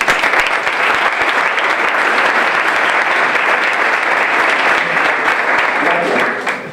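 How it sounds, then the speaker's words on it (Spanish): A conference audience gives loud, full applause after a speaker is introduced, continuous dense clapping from many people that holds steady for several seconds before tapering at the end. "Entonces, un aplauso, por favor."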